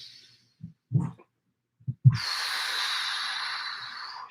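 Heavy breathing during a no-equipment bodyweight stretching exercise, with a few short, low huffs and exhales followed by a long, loud, breathy exhale that continues steadily to the end.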